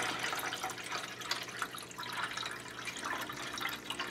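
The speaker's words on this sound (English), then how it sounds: "I'm going to go grab some water and we're going to try out this" Water pouring into a Marina EZ Care aquarium, a continuous splashing and trickling stream that stays fairly quiet and steady throughout, with no voices.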